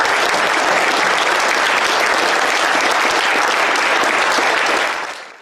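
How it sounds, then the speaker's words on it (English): Sustained audience applause for election candidates at a League of Women Voters forum in Elmhurst, a dense, steady wash of many hands clapping that holds loud for about five seconds before quickly fading. "Let's give these candidates a round of applause."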